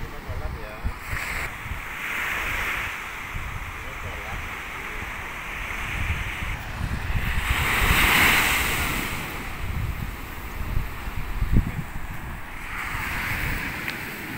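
Ocean surf rolling onto a white-sand beach at Koka Beach, Maumere, a steady wash that swells and recedes, with wind buffeting the microphone and faint voices in the background.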